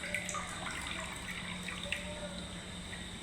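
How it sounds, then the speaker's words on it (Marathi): Water drains steadily through a sieve from soaked mixed lentils: a continuous close trickle with scattered drips that runs unbroken throughout. "चाळणीमध्ये काढलं ना की पाणी पूर्ण याच्या झिरपते याच्यातलं पाणी"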